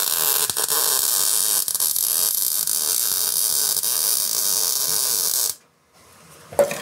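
Tack welding on a home-built stove: a loud, continuous crackling buzz holds steady for about five seconds, then cuts off abruptly, leaving near silence and a faint knock afterward.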